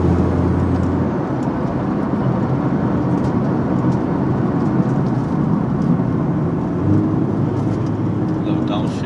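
A Nissan GT-R with all-wheel drive roars steadily from inside the cabin while driving, its loud engine drone dipping and rising as it downshifts, with voices talking over it.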